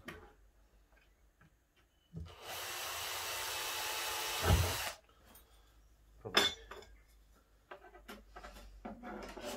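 A small drill bores through a thin 1 mm iron strip during a VW Crafter campervan cabinet build: one steady whining burst of about two seconds in a quiet room, followed by light clicks and handling knocks.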